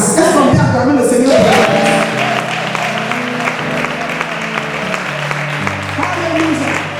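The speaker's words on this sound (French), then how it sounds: "Est-ce qu'on peut acclamer le Seigneur?" A church congregation applauds and cheers together to acclaim the Lord, a dense, steady wash of clapping with voices mixed in, loud and sustained, while music plays underneath.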